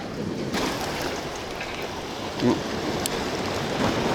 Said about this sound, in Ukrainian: Волна тільки стала більше до вечора